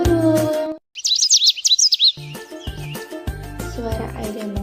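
Bright bird chirps and tweets come in a quick rapid burst of calls, set between stretches of music, and then they carry on more faintly underneath it.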